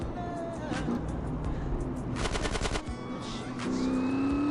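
Rapid automatic gunfire bursts loudly in a GTA San Andreas mission, with a dense rattling volley in the middle set against continuous game engine and tonal background sounds.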